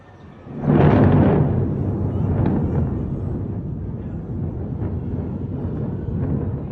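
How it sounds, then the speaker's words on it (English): A deep, rumbling blast from the demolition explosion of two high-rise towers swells up suddenly, then rolls on as a long, low roar that slowly fades away in the distance. "two high-rise towers turned to dust amid a thunderous explosion"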